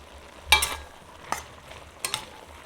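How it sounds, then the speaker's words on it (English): Greens frying in a pan with shrimp waiting to be added are stirred in three distinct bursts of scraping and clattering against the pan, over a faint background sizzle. "Give it a stir."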